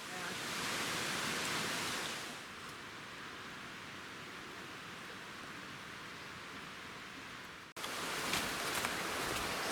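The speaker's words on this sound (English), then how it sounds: "As you can probably hear, we are back down at the creek again." A wilderness creek rushes steadily in a dense, broadband wash of flowing water, close and constant, with a short dip near the end before the flow resumes.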